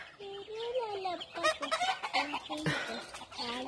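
A hen clucks repeatedly while laying an egg in a straw sack, a series of close, rising and falling calls in quick bursts with some background noise.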